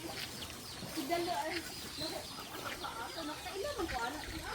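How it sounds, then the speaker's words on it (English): Chickens cluck around a rural farm with a fish pond in a Filipino province, their short calls scattered under people talking nearby. "We got chickens all over here."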